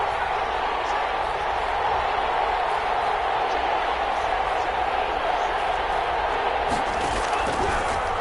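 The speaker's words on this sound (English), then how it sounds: "the crowd getting into it as we come up on a big 3rd down" Stadium crowd in a football video game, a steady, loud wash of cheering and noise with a few brief claps and shouts rising from it.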